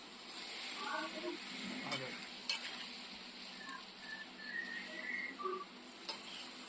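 A ladle stirs masala through chanduva fish curry in a village kitchen, with faint scraping and a low simmering hiss. A few short clicks and thin whistle-like tones sit in the background.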